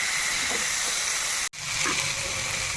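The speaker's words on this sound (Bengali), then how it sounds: "তো কিছুক্ষণ ভেজে নিলাম।" Bamboo shoots and bean seeds fry in spices in a pan, giving a steady close sizzling hiss that runs without pause, broken only by one very short dropout partway through.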